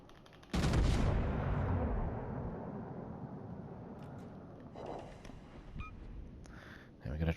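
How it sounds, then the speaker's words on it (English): A salvo from the warship Derfflinger's guns in World of Warships opens with a single loud, booming blast, then a long rumbling decay that fades into quieter game sounds. "I think I'm just going to have to take a shot at her here."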